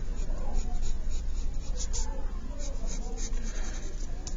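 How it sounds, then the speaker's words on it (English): Pencil sketching a triangle on paper, giving a close, continuous scratchy rubbing made of short strokes with no pauses. "I'm going to draw a triangle here."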